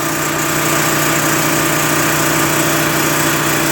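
An RV generator, a cheaper alternative to an Onan unit on a Holiday Rambler motorhome, runs loud and steady with a constant droning engine hum and no break or change in pitch.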